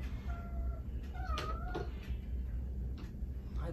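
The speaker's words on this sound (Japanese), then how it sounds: "小麦ちゃんケージ嫌いだよね。 ぴょんぴょん、はい、出てみて。 はいはい、文句言ってますね" A cat shut in a cage lets out several plaintive, complaining meows in quick succession, close and clear over a low rumbling background.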